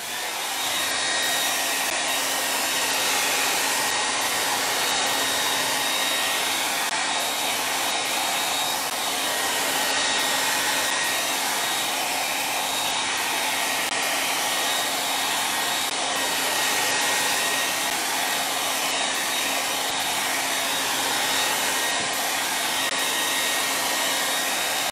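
A hair dryer runs continuously at close range to dry a freshly stencilled craft piece, a loud, unbroken whooshing hum with a steady motor whine lasting throughout and no voices.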